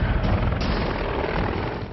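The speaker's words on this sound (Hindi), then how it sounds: "ये है हिंदुस्तान का एडवांस लाइट हेलीकॉप्टर यानी एएचएल।" A HAL Advanced Light Helicopter gives a loud, continuous roar of rotor and turbine, close and steady throughout, with no voices over it.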